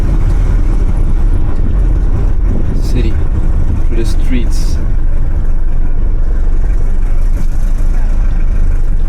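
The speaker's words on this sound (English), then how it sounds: "let's hear the beautiful diesel sound" A 1979 Mercedes-Benz W123 240D diesel engine rumbles steadily through city streets, loud and close, while a person talks over it.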